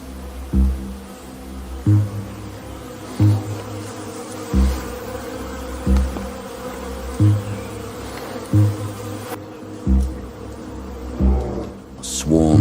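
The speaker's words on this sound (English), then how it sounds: "Swarms of angry bees rise to defend their hidden fortress" Swarm of angry bees buzzing in a dense drone around their hidden nest, under a regular pulsing throb that repeats about every second and a half.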